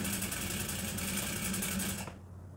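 A sewing machine stitches a seam on a women's blazer in a close, continuous whirring run that stops abruptly near the end.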